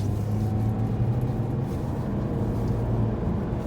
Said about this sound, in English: let's go for a test drive with my Rogue misfiring